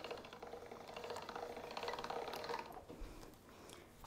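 A hand-cranked pasta machine rolls a sheet of egg-free pasta dough, giving a steady ratcheting, geared clicking and rattle at close range with no voices.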